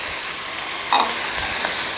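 Chicken pieces stirred with brinjal chutney in a hot pan, steady close sizzling with a brief scrape of the spoon.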